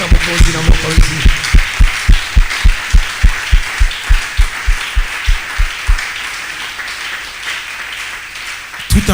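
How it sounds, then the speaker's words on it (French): Congregation claps in a steady, loud unison beat to acclaim the king, with voices cheering over the rhythm until the clapping fades near the end. "Tonnerre d'acclamation pour le roi"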